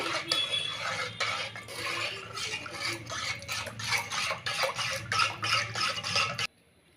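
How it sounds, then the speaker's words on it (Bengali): Powdered sago is mixed with water and salt in a bowl: quick, rhythmic scraping and clinking strokes of a utensil close up, continuing steadily before stopping abruptly. "এবার ভালো করে এটাকে জলের সাথে মিশিয়ে নেব সাবুটাকে"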